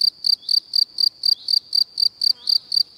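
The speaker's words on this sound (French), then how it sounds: "le grillon chanta d'une voix haut perchée" A cricket chirps loudly and close in a regular pulsing rhythm, about a dozen evenly spaced bursts of high shrill trilling over near silence.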